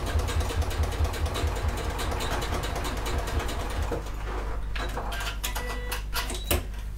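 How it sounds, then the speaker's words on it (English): Sewing machine running steadily with a dense, fast mechanical whir, then shifting as it reverse stitches at the end of a seam, with closer clicks and ticks toward the end. "I'm just going to go and reverse my stitch at the end."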